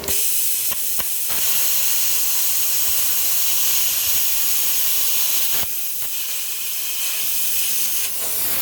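A cheap little welder works thin sheet metal with a loud, steady, hissing crackle that runs almost without a break. It cuts out briefly twice, and sharp clicks and snaps mark each restart.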